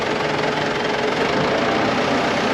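A tractor engine runs steadily close by, a loud, constant mechanical rumble with a faint knocking texture and no pauses.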